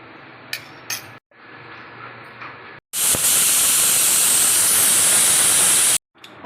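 A pressure cooker whistles as steam escapes while rajma (kidney beans) cooks, with a loud continuous hiss that starts abruptly and cuts off sharply, following a few quieter earlier bursts.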